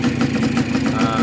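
A Yamaha SS motorcycle engine running just after an oil change, idling with a steady low throb that stays loud and close through the short stretch without pause.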